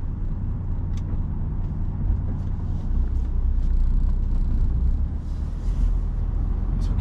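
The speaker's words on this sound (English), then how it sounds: "Oh, got a truck coming in as well." A truck comes in nearby, a deep, steady rumble that swells slightly over several seconds, with faint hissy bursts above it and no talking.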